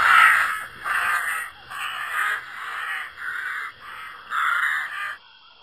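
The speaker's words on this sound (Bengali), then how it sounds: "কিছু কাক হীরার ওপর হামলা করে।" Cartoon crows caw repeatedly in a steady series of harsh, loud calls, about six bursts in quick succession with short gaps between them, heard alone with no talking.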